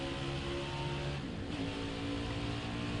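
A NASCAR stock car accelerating around Road America in the racing game NASCAR Heat 5, its engine a steady, sustained drone with a sharper rise partway through, playing alone with no talk.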